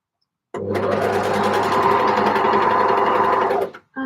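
A home sewing machine stitching knit tops runs in one loud, steady, close whirring burst of about three seconds, starting abruptly after a moment of silence and stopping just as suddenly, with no talking.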